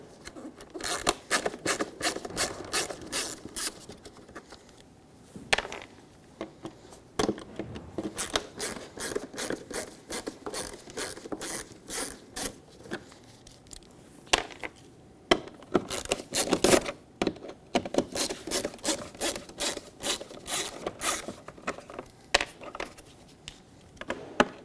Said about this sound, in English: Let's remove the four mounting screws that hold on the fog light onto the bumper.